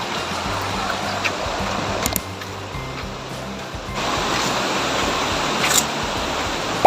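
Broad, steady rush of river water flowing near a hanging bridge in Makapare, Bukidnon, continuous and fairly loud throughout with no voices, swelling slightly in the second half.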